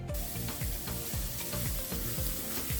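An onion and garlic mixture fries on a high flame for Amritsari chole, a loud steady sizzle broken by regular spatula scrapes and stirring strokes about every half second.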